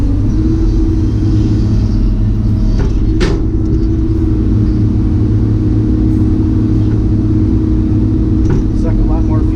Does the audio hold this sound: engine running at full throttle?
yes